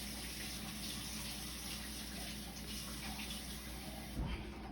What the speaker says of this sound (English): I'm going to put a little dab of hot water in here